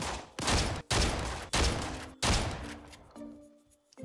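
Shotgun fire from the mobile video game Arena Breakout comes as four heavy, loud blasts in quick succession, each with a short booming tail, followed by quieter game ambience.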